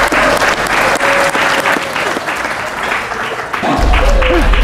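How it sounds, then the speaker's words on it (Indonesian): Studio audience on an Indonesian TV game show applauding loudly and steadily, with faint overlaid voices and a low musical rumble swelling near the end. "Tepuk tangan"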